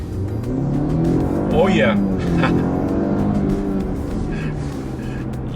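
A 2020 Jaguar XE sedan accelerates with a sustained engine drone rising in pitch through gear changes, heard from inside the cabin beneath talk from the driver.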